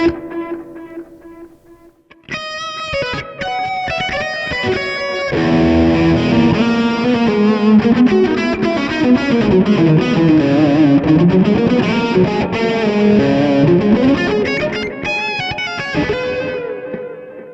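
An electric guitar played through a distortion pedal on a pedalboard gives a gritty, sustained, heavily saturated tone, with a clean plucked phrase first and then loud, dense chords and lead lines carrying on for many seconds.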